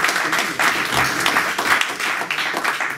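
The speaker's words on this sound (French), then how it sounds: "On va encore vous applaudir une fois de plus parce que cette présentation a été vraiment remarquable." An audience in a lecture hall applauds after a talk about a French general, with loud, steady clapping and a few sharper individual claps.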